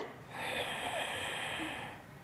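A slow, steady inhale through the nose during a diaphragmatic breathing exercise, a soft airy hiss that swells and fades over about two seconds, close and quiet.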